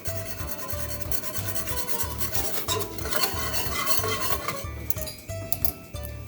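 Cornmeal being stirred into water in a pot for homemade polenta, a continuous scraping, rasping rub with a regular back-and-forth rhythm and occasional utensil clinks against the pot.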